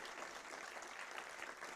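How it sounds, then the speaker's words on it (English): Steady, dense applause from an audience honouring award winners at a National Science Day celebration, even and sustained throughout at moderate distance with no talk over it. "let's give a big round of applause for all the Sarans winners"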